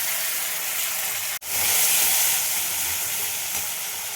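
A spiced onion and masala mixture in a pan for an egg curry hisses loudly and steadily after water is poured in, with a brief cut near the start and no talking.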